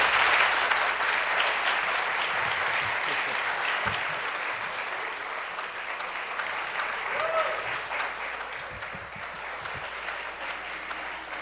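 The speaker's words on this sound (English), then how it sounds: "Thank you for that round of applause." Audience at a 2014 candidates' debate giving a long, steady round of applause, dense clapping that holds at an even level throughout, with faint voices underneath.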